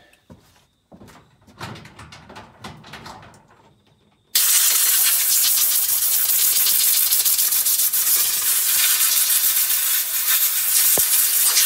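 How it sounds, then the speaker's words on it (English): Sharp, loud blast of compressed air blowing debris out of a Stihl clutch, starting abruptly after a few faint clicks and knocks of handling, then hissing steadily for several seconds. "So I'll just blow this out."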